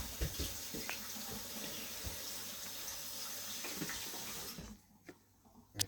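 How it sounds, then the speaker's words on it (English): Running tap water pours steadily into a kitchen sink while chocolate is rinsed off a pancake spatula, a continuous broadband rush that cuts off near the end, leaving a few faint clicks. "If you get chocolate on your spatula, it's okay to rinse it off."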